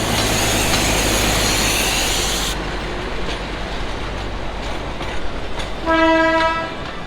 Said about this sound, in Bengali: টয় ট্রেন চললো দার্জিলিংয়ের পথে